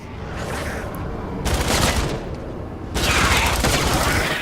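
Rapid gunfire from the Fortnite Save the World shooter while aiming for headshots, dense bursts of shots in two loud clusters with a brief easing between, close and continuous, with game effects around them.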